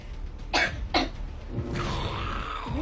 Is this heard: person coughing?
yes